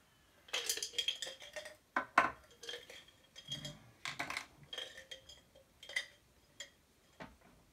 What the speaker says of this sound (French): Donc, il suffit de mélanger doucement.